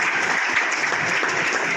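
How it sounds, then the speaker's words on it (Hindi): Audience at a coaching institute function in India applauds steadily to welcome a speaker to the stage, a dense, even wash of clapping throughout with no talk over it. "तालियों से स्वागत कीजिए उनका"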